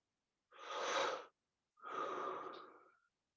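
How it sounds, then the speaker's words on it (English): Heavy breathing close to a microphone, two long loud breaths separated by a short pause, with no talking. "You're breathing extremely loudly into your microphone."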